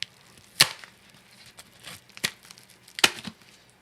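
Plastic packaging holding dreadlock products is cut open in sharp, crisp snips and crinkles, three prominent cuts with smaller rustles between, close and quiet.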